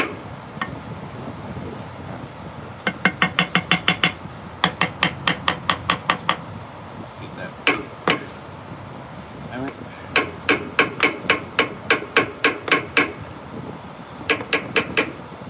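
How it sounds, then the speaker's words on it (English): Rapid bursts of hammer strikes ring out in quick volleys of roughly six to ten blows each, with pauses between, over a steady windy outdoor background noise. "All right, so I got the hammer."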